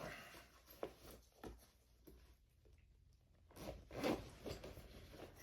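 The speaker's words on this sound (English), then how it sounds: "Bag zips up very nicely" A zipper on an antenna carrying bag is pulled in a few short, quiet bursts, with soft rustling of fabric between the strokes.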